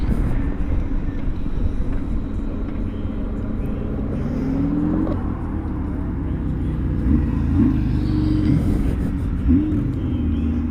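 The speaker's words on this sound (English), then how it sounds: "fire truck." A fire truck's engine rumbles steadily and loudly nearby, a heavy low drone with shifting tones that holds throughout.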